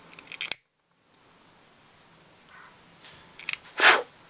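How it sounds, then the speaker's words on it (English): Scissors snip the inner tubing on a tube fly, the Black Sheep Templedog, while it is being tied: a few quiet, close, crisp cuts separated by near silence. "Trim off the inner tubing"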